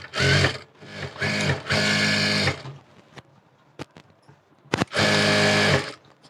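A sewing machine stitches a back-model blouse with lining, loud close whirring runs that stop and start with short pauses, handling clicks in between.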